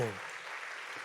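A church congregation applauds during a worship service, a short burst of steady, dense clapping that follows the tail of a voice.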